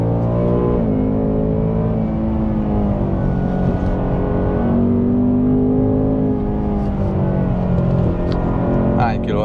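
A new Ford Mustang GT's V8 engine revs and drones steadily through a turn on a damp road, heard loud from inside the car, with the pitch shifting as the throttle changes.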